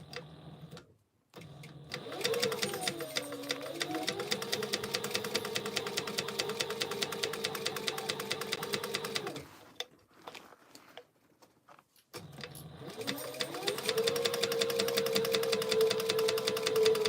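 A sewing machine stitches a seam on a tote bag, giving a rapid, steady mechanical chatter with a hum under it. Two long runs are split by a short pause of quiet handling sounds.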